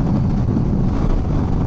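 Strong, steady wind roar buffets the microphone while riding a motorcycle at speed on the freeway, a dense continuous rush with no breaks.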